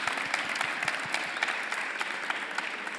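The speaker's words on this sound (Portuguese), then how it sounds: "acho que merece uma salva de palmas" Audience applause at the close of an energy talk held at a school: dense, steady clapping from a crowd lasting the full few seconds, fairly loud with no voices over it.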